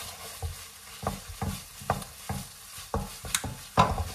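Béchamel sauce being stirred in a pan for lasagne, a spoon scraping in regular strokes about every half second, close and fairly quiet with a soft sizzle underneath.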